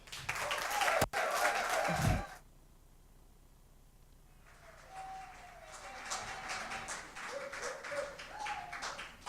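Audience applause at a national corporate public speaking semi-final, a dense burst at the start that breaks off, then softer scattered clapping resumes and continues to the end.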